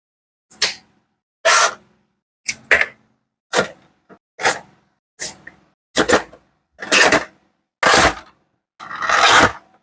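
Ten separate bursts of crinkly plastic and cardboard scraping and rustling come from a Kamen Rider Ghost S.H. Figuarts action figure package being opened, spaced about a second apart and growing fuller toward the end, with no talking.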